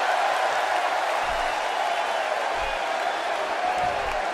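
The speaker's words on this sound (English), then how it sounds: "This crowd is jacked." Steady roar of a cheering arena crowd during a WWE 2K16 wrestling match between Stone Cold and Kane, a sustained wash of applause and shouting with faint low thumps.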